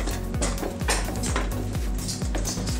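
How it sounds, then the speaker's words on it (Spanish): A spoon scrapes and clinks rhythmically against a metal pot as pork is mixed into a chile sauce, with repeated knocks about every half second over a bubbling, simmering background and no speech. "Le vamos a mezclar bien."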